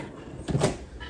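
A sliding patio door rolls open in one short, soft rumbling swipe against a quiet room background.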